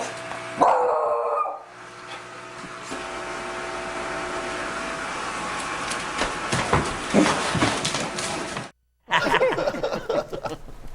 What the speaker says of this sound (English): Dog who's afraid of Richard Simmons.